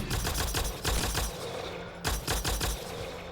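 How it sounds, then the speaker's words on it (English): Rapid bursts of gunfire from a Mass Effect Andromeda firefight, loud, dense shots in two clusters separated by a brief lull, with no talking. "you did not shoot that blue shit at me"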